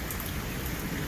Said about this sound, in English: Yeah, it's raining hard here in Greenville, Ohio.